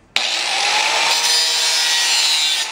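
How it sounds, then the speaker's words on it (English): Cutting wheel grinding metal on a Datsun 521 ball joint, a loud, steady, high-pitched screech with a sudden start, held at light pressure for almost three seconds. "instead of going just straight in with this cutting wheel, I'm doing a very light touch."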